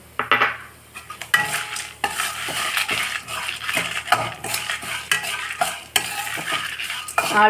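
Chana dal frying and being stirred with red chillies in a pan, a metal spoon scraping and clinking steadily throughout over a soft sizzle, close and fairly loud.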